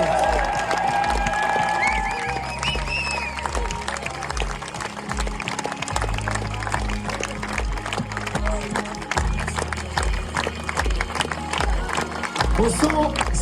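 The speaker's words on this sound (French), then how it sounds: "Est-ce que vous pouvez applaudir toute l'équipe technique qui fait voyager ce théâtre de verdure tous les soirs" An open-air concert crowd at a show in Olmeto, Corsica, applauds the technical crew, with sustained clapping and cheering while a voice speaks over the noise.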